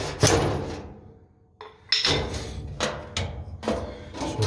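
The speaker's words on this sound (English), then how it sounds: "I'm going to give it a little tap with a hammer so I can break it loose." Several sharp taps of a hammer on a metal Maytag dryer part to break it loose, spaced irregularly, close up, with a short quiet gap between the first strike and the rest.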